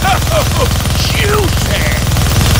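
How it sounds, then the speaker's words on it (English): A minigun fires in the Deadpool video game as a dense, rapid mechanical rattle, loud and continuous, mixed with whooshes and game effects. "Gonna need both hands to shoot that minigun."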